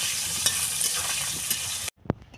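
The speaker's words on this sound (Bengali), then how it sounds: "নুনটা দিয়ে এখন লাল লাল করে ভেজে নেব আলুটা।" Potatoes fry with salt in a hot pan, giving a loud, close, continuous sizzle. The sizzle cuts off abruptly near the end, followed by a single sharp clank.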